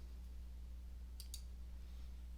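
A couple of quick, faint mouse clicks in close succession, heard over a steady low hum in a quiet room while working through a software report menu.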